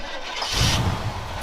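A truck engine with a dead battery catches after repeated jump-start attempts, a brief surge of cranking noise giving way to a low, steady rumble close by.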